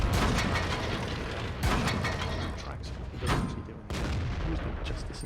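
Heavy tank cannon shots boom over the constant roar of battle in World of Tanks, fired from an Object 416. Several loud, sharp blasts sit on a dense, loud background of engine and mechanical noise.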